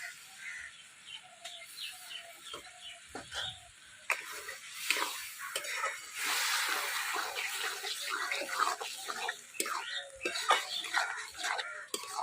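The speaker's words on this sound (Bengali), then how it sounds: "আর একটু জল দেবো।" Water splashes into a pan of prawn curry being cooked in a Bengali village kitchen, a steady close pour mixed with clattering and sizzling, with no talk over it.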